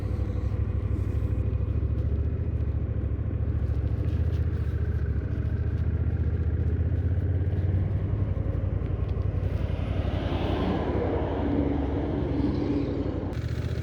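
Continuous low engine drone and wind rush from a Honda Rebel 1100 DCT motorcycle on the road as it shifts gears automatically, steady and close, with a rising, brighter roar near the end.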